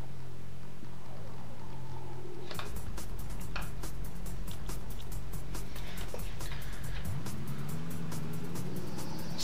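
Car driving in the video game Alarm für Cobra 11 Highway Nights: a low engine hum rises as the car sets off after a couple of seconds, with rapid ticking over it and a rev near the end.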